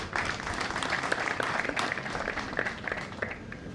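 Audience applause at the Uzima University graduation ceremony in Kisumu, a steady wash of many hands clapping throughout, moderately loud and diffuse from a large crowd, with no talk over it.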